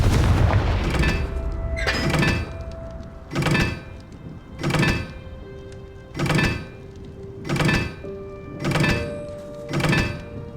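Hogwarts Legacy Confringo fire spell blasts on Nintendo Switch, eight heavy booming thumps at a steady rhythm about every 1.3 seconds, each a loud broad burst fading quickly, over a low rumbling background without talk.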